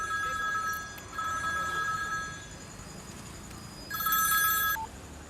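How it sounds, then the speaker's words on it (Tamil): A mobile phone rings in bursts of bright electronic tones, two rings separated by quiet gaps over a low background hush, close and moderately loud, with no talk. "பிரேம் எடுக்கலன்னா அநேகமாக தனா எனக்கு தான் ஃபோன் பண்ணுவான்."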